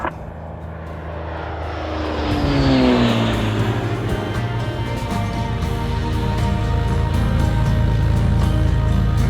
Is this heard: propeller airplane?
yes